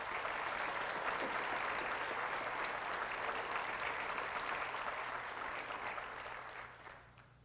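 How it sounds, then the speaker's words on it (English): An audience at Middlesex College's spring 2023 convocation claps in a dense, sustained round of applause that holds steady and then tapers off near the end. "Please join me in a round of applause."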